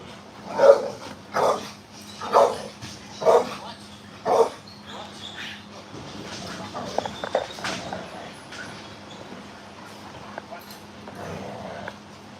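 A working dog barks five times in a steady rhythm during bite training, loud and close, then the barking gives way to scuffling, jangling gear and muffled voices in the background.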